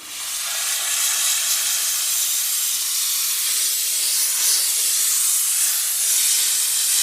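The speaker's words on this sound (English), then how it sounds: "So then we'll do one last little steam here." Continuous loud hiss of a steam cleaner jetting steam inside a first-generation Ford Raptor truck during interior detailing, steady and close without pauses.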